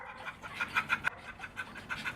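A dog pants in quick rhythmic breaths close by, steady and fairly soft, with no clear bark standing out.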